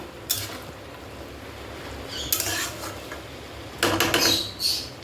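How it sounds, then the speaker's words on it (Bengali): A spatula scrapes and knocks against a pan while mashing and mixing food, three short bursts of clatter and scraping separated by quiet gaps, close up with no talking. "খুন্তি দিয়ে পুরো এটাকে মাখ মাখো করতে হবে ভালোভাবে"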